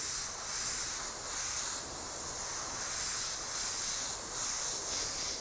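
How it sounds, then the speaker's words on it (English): Spray paint hisses onto a Boba Fett helmet being painted green, a continuous airy hiss that swells and eases in a few gentle pulses. "Don't spray like that because you get overspray."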